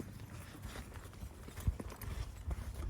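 A ridden horse walks along with soft, uneven clip-clop hoof steps, fairly faint and close, repeating at a relaxed pace with no talk.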